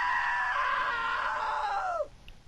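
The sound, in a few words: scream in video game What Remains of Edith Finch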